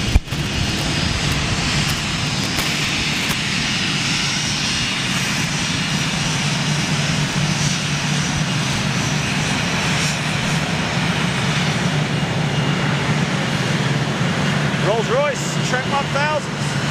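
Norwegian airliner powered by Rolls-Royce Trent 1000 engines, a loud continuous jet roar and whine filling the whole stretch, with people talking over it.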